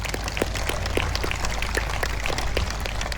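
Audience applause for award winners at an Australia Day 2024 ceremony in Dubbo: a steady, dense patter of many hands clapping at once, fairly close and continuous, with no break across the whole stretch.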